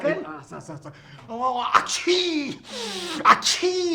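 Two sharp, close sneeze bursts from a man in a Marathi comedy scene, set among other voiced vocal sounds and breathy gasps.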